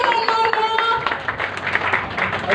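An audience at a comedy show claps for comedian Sunil Pal, a burst of hand claps rising after a short spoken phrase and continuing steadily to the end.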